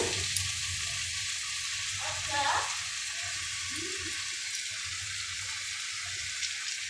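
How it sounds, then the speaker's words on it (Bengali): Butter melts and fries with white oil in a pan for butter chicken, a soft continuous sizzle with a brief stirring clatter and light clinks, fairly quiet. "বাটারটা একটু ভাজা ভাজা হচ্ছে"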